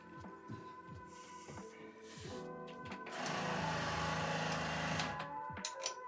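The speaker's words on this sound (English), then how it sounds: "something with the starter motor is not quite right" A Tatra 815 truck's starter motor grinds and whirs in a rhythmic, labored cranking that surges louder midway, the engine failing to catch after more than a year unused, heard close with no talking.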